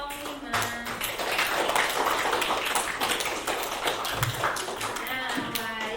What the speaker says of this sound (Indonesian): Kasih tepuk tangan untuk kelompok 5.